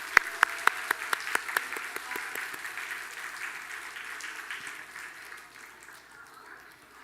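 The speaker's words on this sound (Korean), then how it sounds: "우리 다 같이 박수로 환영하겠습니다" A church congregation breaks into applause to greet young children at a Sunday service, with a few sharp near claps at the start, then a steady wash of crowd clapping that slowly fades.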